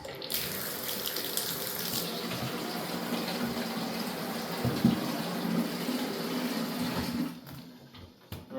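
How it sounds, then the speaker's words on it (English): Tap water rushes steadily into and around a Honeywell Quiet Care humidifier tank as it is rinsed from the inside, a continuous close splashing flow that tapers off near the end. "So we're just gonna have to rinse it out"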